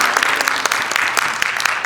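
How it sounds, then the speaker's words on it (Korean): A church congregation applauds during a Sunday service, a brief burst of many hands clapping with scattered sharper claps, moderately loud and continuous. "여기까지 인도하신 주님께 감사와 영광의 박수를 한번 돌리겠습니다."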